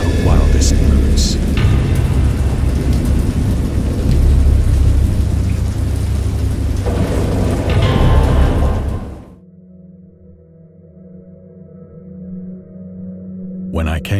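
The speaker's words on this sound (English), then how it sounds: "I heard peals of thunder and other tones which nature utters only in her wildest moods." A heavy game thunderstorm from Dagon: a loud, dense roar of rain with deep rumbling thunder that cuts off abruptly partway through, leaving a quiet low hum.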